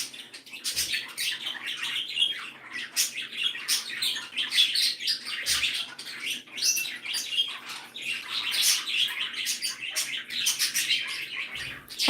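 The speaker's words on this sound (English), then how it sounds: "These little guys, the little green guys, I always hear them warbling away." Small green Sierra parakeets warble continuously in a bird room, a dense stream of chattering chirps and trills close by, with no pauses across the whole stretch.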